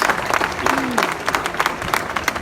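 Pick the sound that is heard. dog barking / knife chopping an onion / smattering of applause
smattering of applause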